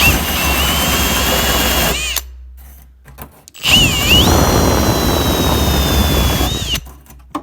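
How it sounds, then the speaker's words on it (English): A wire wheel on a drill scours rust from the quarter panel of a 1950 Plymouth, a loud, close whirring grind in two long bursts separated by a brief pause, with the motor pitch shifting as it bears down. "wire wheel here on a drill, and works really well for getting in behind"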